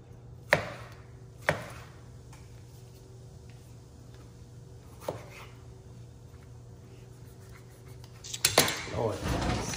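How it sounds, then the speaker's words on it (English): A knife chops through food for bell pepper and tomato salsa in a quiet kitchen, with a few sharp scattered knocks on a board and a busier cluster of clattering cuts near the end. "Cause I gotta chop up this."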